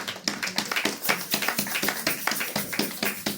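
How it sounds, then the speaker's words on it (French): A church congregation at a Sunday service applauds together, a steady run of close, sharp hand claps with fairly even rhythm that holds loud and unbroken throughout, with no talking over it. "Acclamez pour cette parole."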